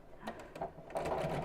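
Domestic sewing machine stitching a zipped biscornu pouch, a quick rapid mechanical whirr of needle strokes, close and moderately loud, with a faint voice in the background.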